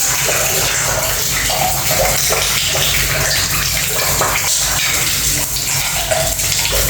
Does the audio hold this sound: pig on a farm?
no